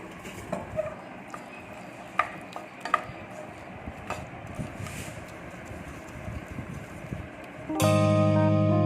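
Metal spoon scraping and clinking in a pot while tempering is stirred into Andhra-style dal, irregular close knocks and scrapes, ending with a sudden loud steady tone.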